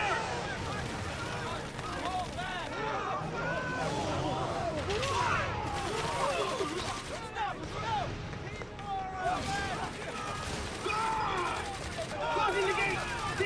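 Sustained gunfire in the Final Fantasy 13 video game, with rapid overlapping shots and battle effects that continue without a break under a constant mix of game sound and voices.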